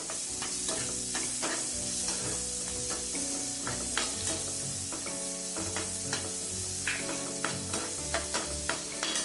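Small shallots fry in oil with cinnamon, cloves and fennel seeds, a close, steady sizzle broken by frequent sharp stirring clicks and scrapes of a spoon against the pan.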